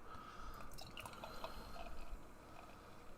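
Off Color Brewing's Dino S'mores beer pours into a glass in a steady liquid splash and gurgle with small dripping accents, continuous and close by with no talking.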